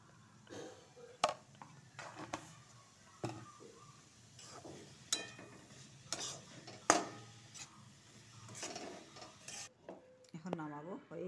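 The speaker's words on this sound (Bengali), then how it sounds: "এভাবে 1 চামচের মতন ঘি ঢেলে নাড়াচাড়া করব।" A spoon stirs food in a pan with about a spoonful of ghee, giving quiet scattered scrapes and clinks with a faint sizzle underneath, close by, and a brief voice near the end.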